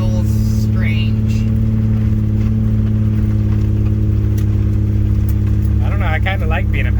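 A Nissan R32 GTR engine hums steadily from inside the cabin while driving, a low constant drone beneath people talking.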